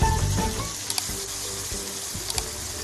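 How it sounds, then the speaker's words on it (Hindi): Peas and minced meat frying in a pan for matar keema, with water just added: a steady close sizzle with faint clinks and stirring scrapes, no talking. "थोड़ा सा पानी डाल के इसको हमने अच्छे से भूनना है।"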